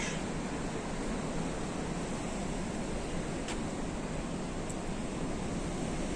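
Rough sea breaking on the shore on a calm, windless day, a steady broadband wash of surf that stays loud and unbroken throughout, with no voices.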